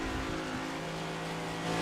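Onboard engine sound from the 24 race car in a sim racing game on an Austin circuit, a loud, sustained droning whine that holds steady with a slight pitch shift, with no voices.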